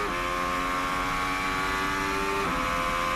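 Red Bull Ford Formula 1 car engine running abnormally during British Grand Prix qualifying, a high tonal whine holding steady, then shifting abruptly in pitch partway through, heard alone.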